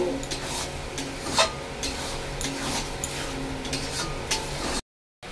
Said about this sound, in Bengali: এটা তেল ছাড়া অবধি কষাবো।